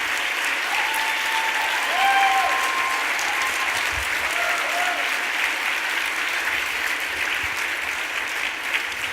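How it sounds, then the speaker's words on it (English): Gala guests applaud YWCA board members at a fundraising event, sustained, fairly loud clapping from a crowd, with a few faint voices and tones threaded through it. "If you please could stand up so we could all give you a round of applause for doing so much great work for our city."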